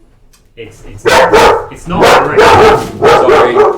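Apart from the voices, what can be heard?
dog barking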